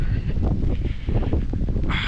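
Gusty wind buffets the microphone with a steady low rumble and roar, continuous throughout with no voices.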